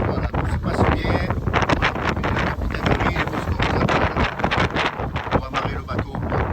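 Strong following wind roars across the microphone on a sailboat running downwind under genoa alone, a loud steady buffeting rush that fills the whole stretch without pause.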